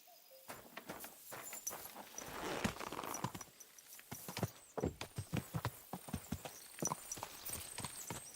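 Horse hooves clip-clop on a path in the video game Kingdom Come Deliverance 2, a steady walking rhythm of close hoofbeats that picks up pace toward the end.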